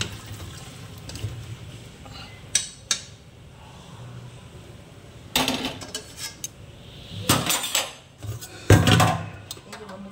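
Boiled taro is tipped into a metal colander in a home kitchen, giving a few sharp clanks and bursts of splashing water between quieter stretches, close and fairly faint.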